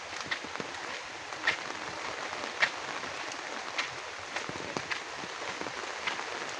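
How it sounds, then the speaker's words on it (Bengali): Rain falls outside a village home, a soft continuous hiss broken by scattered sharper drips and taps. "কুলকুল করে বৃষ্টি হচ্ছে।"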